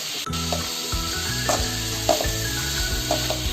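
Grated carrot tumbles into a pan of frying ginger and garlic. A steady sizzle runs under a few scraping, rubbing stirs and soft clinks that land at irregular moments, close and moderately loud, with no talking.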